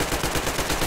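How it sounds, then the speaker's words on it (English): Gunfire in the video game Metro Exodus, a dense rapid crackle of shots packed into under a second, loud and continuous with no talk over it. "they're shooting at some kind of monster over there."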